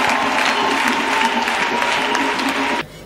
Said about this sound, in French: Acclamez Amen.